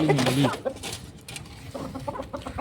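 Chickens cluck in short, scattered bursts nearby, with a brief squawk at the start and soft farmyard background noise.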